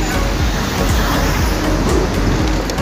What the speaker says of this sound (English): Gumagalaw ang tram.